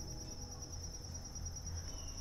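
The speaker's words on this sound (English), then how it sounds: "There's a cricket right in here." A cricket chirps outdoors among flowers, a steady, fast high trill running through the whole stretch at a faint, quiet level over soft background ambience.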